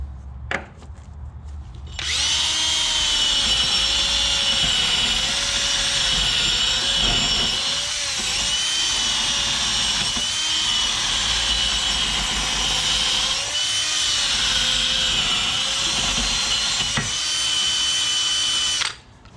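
A power tool whines loudly and continuously while cleaning rust out of a Mustang GT rear wheel hub, the high-pitched grinding running steadily for most of the clip with slight dips in pitch as it bites, after a brief quiet start.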